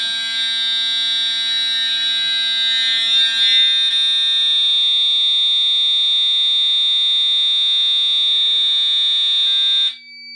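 A fire alarm system under test blares a loud continuous electronic tone, steady and piercing for about ten seconds before cutting off, with a voice briefly heard beneath it.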